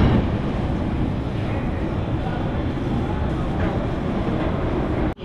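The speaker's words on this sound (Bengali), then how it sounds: "নৈহাটি স্টেশনের উপর দিয়ে যাচ্ছে দার্জিলিং মেল।" Darjeeling Mail passenger train running through Naihati station, a steady loud rumble and clatter of coaches rolling past without a break, ending abruptly.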